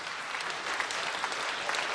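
Steady audience applause at a regional music festival concert in Yaroslavl greets an award winner, a continuous moderate wash of many hands clapping with no talk.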